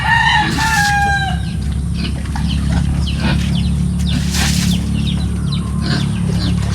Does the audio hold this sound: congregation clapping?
no